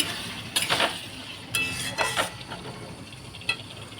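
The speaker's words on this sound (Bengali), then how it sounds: "এখন বেটে রাখা চিংড়ি মাছটা দিয়ে দেবো এবার কষিয়ে নেব" Ground prawns being stirred into fried spice paste in a pan, with a few sharp clinks of a utensil against the metal pan over a faint sizzle, close and fairly quiet.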